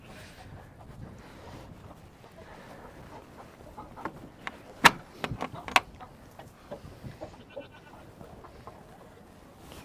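Goats on an off-grid woodland homestead bleat a few times in the middle of steady wind noise, the short cries fairly close and standing out briefly above the gusts.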